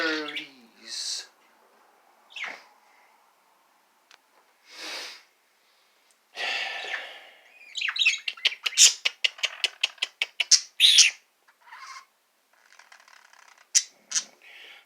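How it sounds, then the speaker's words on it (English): Pet birds let out of their cage chirp and squawk close by, with scattered calls early on and then a quick rapid series of sharp chirps, separated by quiet gaps. "With two little birdies."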